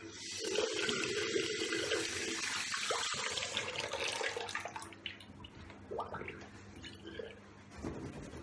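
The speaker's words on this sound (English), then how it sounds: "Okay, I'm gonna rinse this off." Tap water runs steadily and fairly loud while hair bleach is rinsed off, the flow easing and turning more uneven and splashy toward the end.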